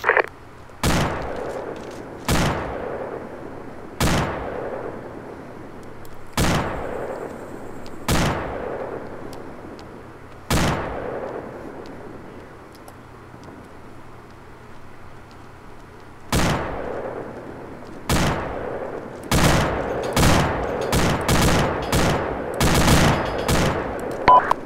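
Gunfire in the military game Arma 2: loud, spaced single shots and short bursts echo across open terrain, coming more rapidly toward the end, with no talking.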